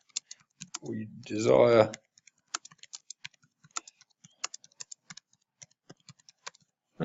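Computer keyboard keys tapped while a short phrase of speech is heard near the start, then a steady run of light, sparse clicks as a message is typed out, close and fairly quiet.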